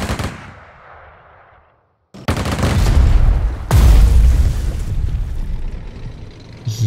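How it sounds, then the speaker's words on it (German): Artillery fire in Strategic Mind: Blitzkrieg: a booming blast decays away, followed after a pause by two heavy, sustained barrages of explosions, loud and rumbling. "Artillerie."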